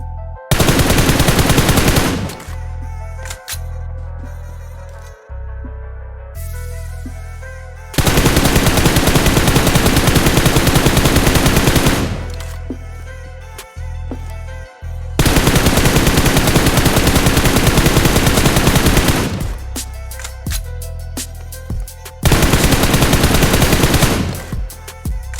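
Gunfire in the mobile battle royale game PUBG Mobile, long loud bursts of rapid automatic fire separated by short gaps and a few single shots, close and dominant with no talk.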